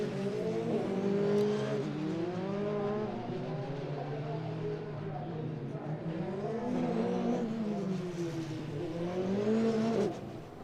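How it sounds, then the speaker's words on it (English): Formula 3 race cars at Zandvoort revving and wavering in pitch, several engines overlapping in a sustained, loud drone as they spin up their rear wheels heading to the grid. "spinning up the rear wheels as they head towards their grid boxes"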